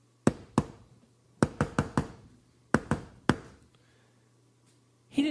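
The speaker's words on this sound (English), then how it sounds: "Archibald wasted no time knocking on the door with a secret code." Knuckles rap on a door in a coded pattern: a single knock, a second, then a quick run of four, a pause, and a closing group of three, each sharp and close with short decay, followed by quiet.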